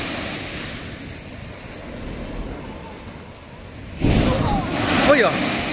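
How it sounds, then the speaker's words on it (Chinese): Sea waves roll in and break on the beach at Rushan Silver Beach amid wind noise, a muted wash swelling into a louder, close crash of surf; people talk in the background. "浪什么时候开始起的？"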